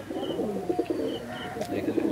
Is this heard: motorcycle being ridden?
no